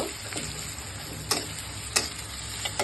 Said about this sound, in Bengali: এভাবে আমি পেঁয়াজটা ভেজে নিব